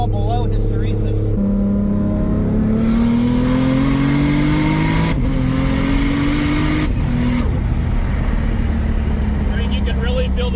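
A 2JZ-powered Nissan S14 with an 8HP70 automatic gearbox pulls hard through the gears, its loud engine tone climbing in pitch with each shift, close up and continuous, while people talk over it.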